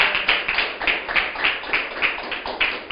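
A church congregation claps along during a sermon, with steady, rhythmic hand claps roughly three to four per second, continuing evenly throughout.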